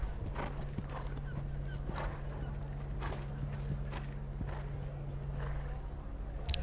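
Hooves clip-clop steadily at a show jumping event, a horse moving at a regular gait on the course, with a steady crowd and arena background hum throughout.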